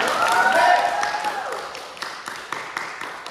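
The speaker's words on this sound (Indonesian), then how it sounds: "Tepuk tangan yang meriah kawan-kawan" An audience at a theatre performance applauds with scattered, fairly sparse claps that continue under a speaking voice, which carries over the first half before the clapping goes on alone at a moderate level.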